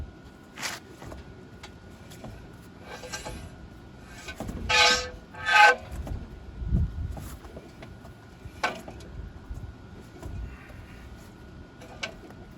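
Intermittent high-pitched metallic scraping and squealing bursts from a rock stuck in a car brake come over a low vehicle rumble, a few loud grinding screeches among fainter ones.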